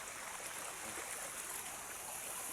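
A creek flows steadily in a continuous soft rush and hiss of water, even and unbroken throughout, with no voices.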